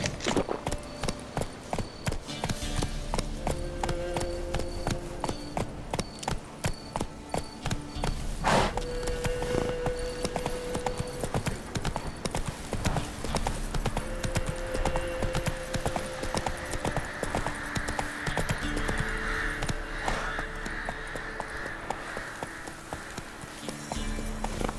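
Horse hooves in The Witcher 3 video game, a fast rhythmic clip-clop gallop that runs steadily from start to finish over game music and ambience, with an occasional brief whinny.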